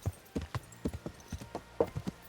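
Horse hooves clip-clop at a steady trotting rhythm in Kingdom Come Deliverance, a quick series of distinct close thuds over a couple of seconds.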